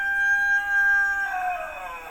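A rooster crowing once in the early morning, a drawn-out tonal call that holds steady then breaks and fades, moderately loud over a quiet background.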